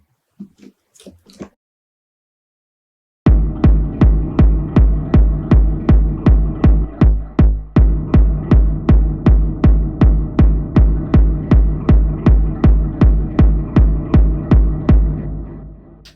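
A synthesized techno bassline runs through a compressor, pulsing in a fast, even stream of punchy low throbs, each with a sharp attack, loud and dry after a few brief clicks and a short silence.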